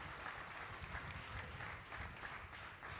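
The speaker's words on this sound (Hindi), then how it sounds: "एक बार जोरदार तालियों से काका जी को थैंक यू करते हैं।" An audience applauds at a gathering of devotees, a steady patter of many hands clapping together throughout, faint and somewhat distant.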